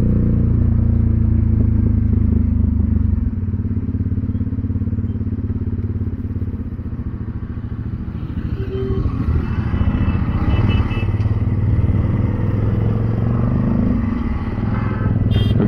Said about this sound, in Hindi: तीसरी बाइक में मेरी वाली बाइक में लोचा हो गया है कि मेरी बाइक का साइलेंसर निकल